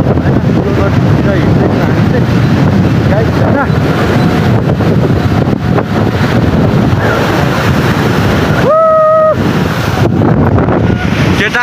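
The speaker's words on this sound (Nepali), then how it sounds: "हावा लागिरहेको" Strong wind gusting across the microphone on a mountain trip near a hydropower site, a loud continuous rushing roar with a brief tonal sound near the end, and voices faintly under it.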